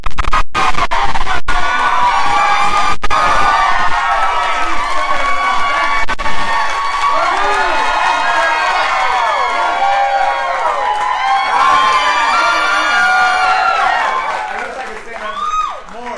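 A rehearsal audience at a late-night comedy show studio cheers, whoops and shouts excitedly, a dense lively crowd roar sustained for about fifteen seconds before easing off, with a few sharp knocks at the start.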